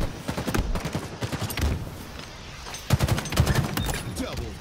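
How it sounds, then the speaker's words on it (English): Three-round burst rifle fire in the Halo multiplayer game, rapid grouped volleys of sharp shots repeating through the clip, loud and close, with another cluster of bursts near the end amid game sounds and brief voice. "Nothing satisfies like a three-round burst."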